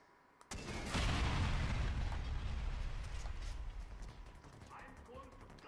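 A rocket launcher blast in Far Cry 4 erupts suddenly after a brief quiet moment, a loud booming explosion whose rumbling roar sustains and slowly fades over several seconds.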